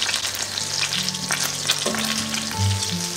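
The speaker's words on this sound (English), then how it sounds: "Just gently brown all of the breadcrumbs before we put it in the oven for 15 minutes." Breadcrumb-coated chicken cordon bleu browning in a pan, a bright, steady close sizzle of hot oil with faint stirring, heard alone.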